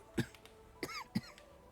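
Three short, throaty coughs from a character in the video game Divinity: Original Sin II, spaced apart over quiet ambient game background.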